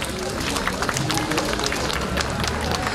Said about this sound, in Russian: друзья, если хочется аплодировать, не останавливайтесь